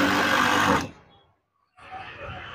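A sewing machine stitches along the top edge of a folded curtain, running loud and steady for under a second, then falling silent before a softer stretch of handling noise resumes.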